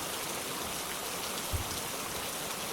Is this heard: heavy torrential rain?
yes